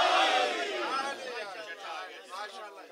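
A large crowd at a majlis in an imambargah chants Naara-e-Haidari slogans, loud massed voices that surge at first and then taper into a rolling chorus.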